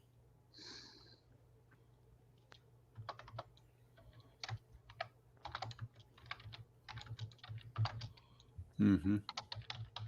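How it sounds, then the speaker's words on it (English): Computer keyboard typing in a quiet pub-style lounge, a steady run of soft clicks and clattering keystrokes throughout, with a brief murmured voice and a louder breathy snort near the end. "typing your ass off"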